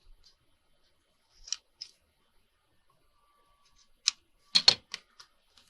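Scissors trimming the edge of a paper card in a quiet room: a few sparse, crisp snips, isolated at first, then a tighter cluster of close cuts near the end.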